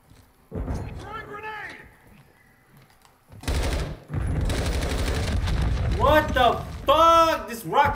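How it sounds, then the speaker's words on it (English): Rocket launches and gunfire in the multiplayer video game Call of Duty 2, loud sustained blasts and rattling fire while someone talks over it. "He's over here shooting rockets like a bitch."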